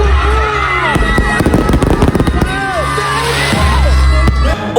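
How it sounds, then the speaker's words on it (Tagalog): A Christmas fireworks display at an outdoor light-show opening crackles and bangs in rapid bursts while a large crowd cheers, whoops and shouts close by. "nakita gyud ako sa live ang fireworks display nila"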